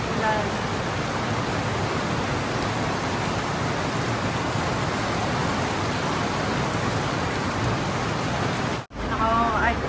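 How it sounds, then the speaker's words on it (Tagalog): Heavy rain pours steadily in a dense, even roar that holds almost unbroken to the end, with a brief dropout near the close; faint voices sit under the downpour. "sobrang lakas ng ulan"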